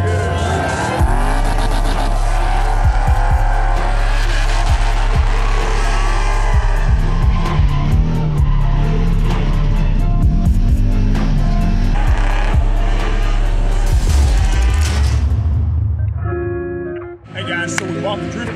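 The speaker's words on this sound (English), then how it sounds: "this is my new drift car." A drift car sliding with loud tire squeal and engine roar, close and intense throughout, with speech-like sounds mixed in, then a brief drop and a return of noise near the end.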